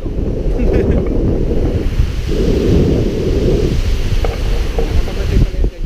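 Loud, rumbling surf at San Fabian Beach rolls in continuous, heavy waves with buffeting wind noise on the microphone, close and overpowering throughout.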